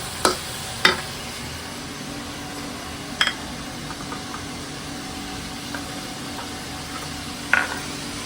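Chopped onion and garlic are fried and stirred in a pan, a soft steady sizzle under a few sharp scrapes and clinks of a spoon against the pan, spaced irregularly and heard up close.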